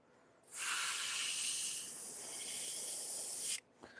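Spray paint hisses onto paper in one continuous, close burst lasting about three seconds, steady and bright, then cuts off sharply, followed by a couple of faint small knocks.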